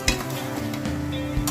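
Chicken frying with onions and salt in a pan, stirred with a utensil: a steady sizzle runs throughout with a few scraping, clinking stirs, close and alone with no talking.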